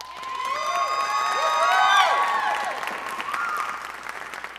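An audience at a marching band season review concert applauds and cheers for the trumpets and color guard, a steady swell of clapping that peaks midway and then tapers, with whoops and a few shouts over it.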